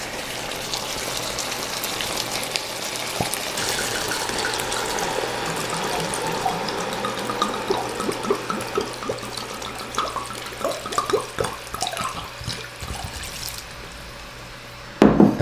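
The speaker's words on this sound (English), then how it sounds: "We're going to go in with a whole bottle of Chianti." Wine from a whole bottle of Chianti pours steadily into a pot of Tuscan peposo beef stew, a continuous liquid splashing and glugging close by with no talk.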